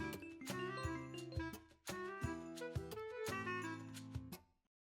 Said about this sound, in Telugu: మళ్ళీ ఫోన్ చేస్తున్నాడు.